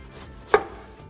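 A knife slicing cabbage thinly for coleslaw lands one sharp, crisp chop on the board, a single close cut standing out above a quiet background.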